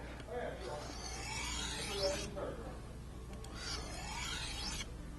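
A kitchen knife is drawn across a short whetstone in two long, sweeping grinding strokes, each a quiet, close rasp with a faint scrape.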